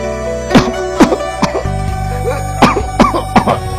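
Several sharp coughs, loud and close, sound in a children's cough syrup advertisement, coming in separate bursts over steady background music.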